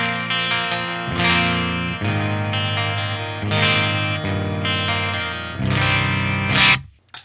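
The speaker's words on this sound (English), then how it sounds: "Let's go to channel one here, and I can show you some clean tones." A Jackson Kelly electric guitar on its bridge pickup plays through an Engl Invader amp, ringing chords strummed in several sustained sections with short breaks, loud and close, before the last chord is choked off.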